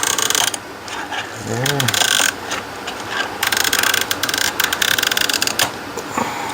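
Gauges on a Ford instrument cluster with a PATS security fault being worked on by hand, mechanical clicks and ratchet-like snaps scattered through the clip as the larger needles spring back into place, close and moderately loud, with a brief spoken word.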